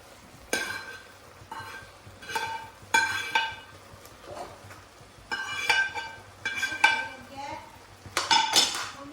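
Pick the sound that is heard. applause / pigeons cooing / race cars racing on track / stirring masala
stirring masala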